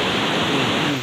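A swollen river roaring steadily where two streams merge, a dense, constant rush of water close by with no break and no voices.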